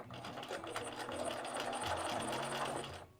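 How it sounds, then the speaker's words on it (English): A sewing machine stitches along a seam to trap down the facing of a trouser waistband, running steadily and close for about three seconds with a busy, even mechanical whirr and no talk. "we're going to sew as close as we possibly can to this seam here to trap it down"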